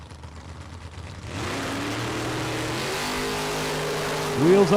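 A Chevy Nova and a pickup truck drag racing down the strip at a Super Pro event, engines rising from quieter idle into a sustained loud roar, with a brief higher whine near the end.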